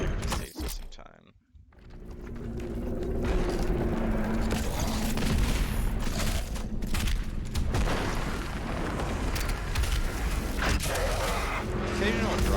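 In Doom Eternal, gunfire and sticky bomb explosions rumble in dense, continuous bursts of booms and mechanical clatter that stay loud after a brief quiet dip near the start, with talking over the top.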